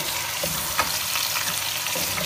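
Large pieces of round-cut beef, 700 grams, fry with onions in a pot for haleem, giving a loud, dense sizzle with stirring scrapes and occasional knocks, no talk.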